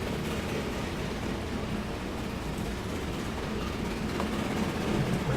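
Train rolling along in the game Train Fever, a steady, dense rumble of wheels on track with faint clatter, continuous and moderately quiet with no voices.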